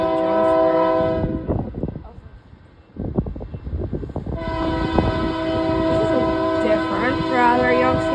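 A Union Pacific train passes close by, its loud horn blaring in sustained blasts over the rumble and clatter of rail cars, with people talking in the background.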